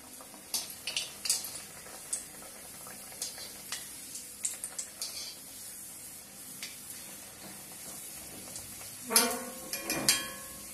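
Samosas fry in hot oil with a close, crackling sizzle, punctuated by scattered pops and a louder splattering burst near the end.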